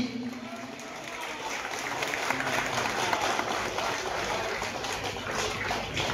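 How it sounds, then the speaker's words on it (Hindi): Crowd at an inauguration event for a jatra theatre troupe's first play claps in a sustained, fairly soft wash of applause, slightly distant and continuous. "समस्त मात्र में खूब जोरदार करताली चाहिबी"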